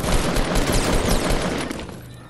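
Dense, continuous gunfire from a Black Knight player in a video game, loud and close. The shooting rattles steadily, then thins out slightly toward the end.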